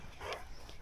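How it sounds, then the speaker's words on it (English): Several dogs playing rowdily together outdoors in the morning, with a short, faint bark or yip rising briefly above soft background noise. "Like a dog park every day."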